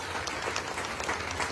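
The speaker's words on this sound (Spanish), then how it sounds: "vamos a darle un aplauso al presidente municipal de Tuzantla" Applause from an audience at a community event in Tuzantla, a steady patter of many hands clapping at moderate distance, fairly faint and continuous throughout.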